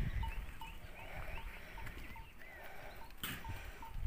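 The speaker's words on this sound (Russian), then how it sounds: "А это бараны, по-моему." Rams or young goats bleat at a livestock farm in a Turkish village. Several short cries repeat at a steady pace, with a bell-like clank and steady farmyard rumble underneath.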